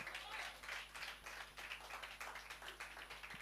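A church congregation claps during a sermon at a JMCIM outreach service in Hong Kong, with soft, fairly steady rhythmic clapping that sounds distant and faint in a reverberant room.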